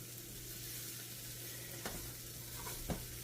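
Potatoes frying in a pan over lowered heat give a steady, quiet sizzle, with a couple of faint scrapes of stirring near the end.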